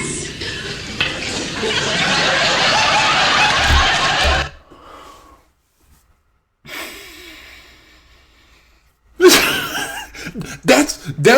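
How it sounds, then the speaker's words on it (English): A loud sneeze-like burst of breath up front, followed by quiet gaps, a faint breathy sound, and another sharp nasal burst near the end. "Look at what they say when they sneeze."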